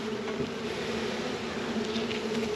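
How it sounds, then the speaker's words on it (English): A swarm of young honey bees buzzes steadily and softly nearby, a continuous droning hum with no voices. "these all look like fairly young bees too"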